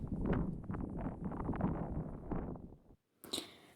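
Wind gusting outdoors in a garden, rumbling and buffeting the microphone steadily, then a brief lull before a short rustling gust at the end.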